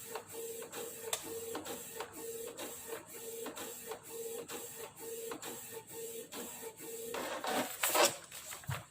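A laser printer fitted with a smart toner cartridge runs a print job, giving a steady rhythmic series of mechanical ticks and feed clunks close by, ending in a louder burst of rustling paper movement.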